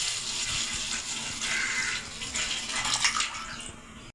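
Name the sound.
coconut milk being poured into a pan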